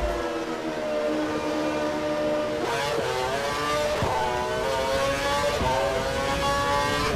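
An F1 car engine in the racing game F1 2012 drones steadily at high revs, its tone rising and falling through gear changes and shifts. The engine is loud and continuous, with no talk over it.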